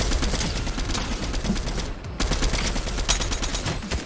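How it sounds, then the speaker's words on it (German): Sustained automatic gunfire in the video game Fortnite, rapid rattling bursts that fill the clip with a brief pause near the midpoint before the shooting resumes, loud and close. "Okay, ich schieße einfach so auf die."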